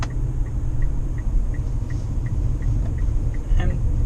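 A Mitsubishi Outlander diesel driven slowly on the road, with a steady low engine and road rumble throughout and a faint rhythmic ticking above it, while someone talks over it.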